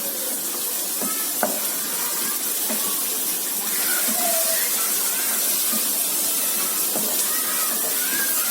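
Onion frying in a pan until light brown, a steady close sizzle with occasional stirring clinks and scrapes running throughout, no voices.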